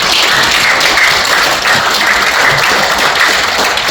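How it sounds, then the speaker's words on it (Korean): A crowd applauds steadily throughout, a dense wash of clapping from many hands. "우리 큰 박수 한번"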